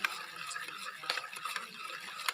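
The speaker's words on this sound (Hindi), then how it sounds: "हम इसे अच्छे तरीके से मिक्स कर लेंगे।" Cake batter being mixed in a bowl by hand, a steady stream of soft scraping and stirring strokes with a few sharper utensil taps against the bowl, close and moderately quiet.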